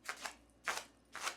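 Tarot cards are shuffled by hand during a reading, three short, soft riffling bursts spaced evenly and heard up close with no talking.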